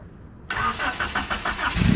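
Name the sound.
1989 Honda Civic Si hatchback engine idling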